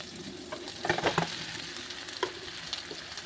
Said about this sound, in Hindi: अब इसमें डालेंगे हम मैश किया हुआ आलू।